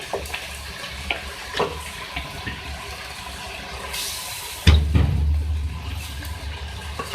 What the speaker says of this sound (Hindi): उसको हम इस तरीके से जो है धोना है, कट करना है, मिक्स करेंगे